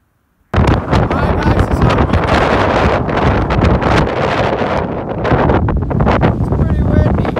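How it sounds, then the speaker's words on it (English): Strong wind buffeting a microphone outdoors in hilly deer country, a loud continuous roaring rumble that bursts in suddenly and keeps gusting unevenly throughout. "It's pretty windy."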